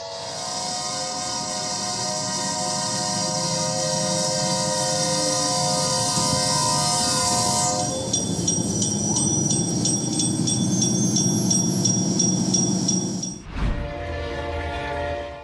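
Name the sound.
oncoming train and train horn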